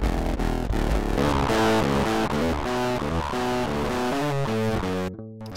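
Loud, fizzy guitar through a distortion plugin, with no amp or amp sim, plays a chugging, rhythmic riff of changing notes, cutting off abruptly near the end.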